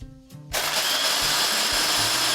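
A grinder starts up after a short pause and runs loud and steady, whirring as it grinds frozen blueberries, with no talking.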